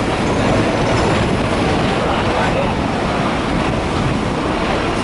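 Continuous loud rumbling and rushing noise from inside a moving Hong Kong tram, steady throughout with a faint rhythmic rattle underneath.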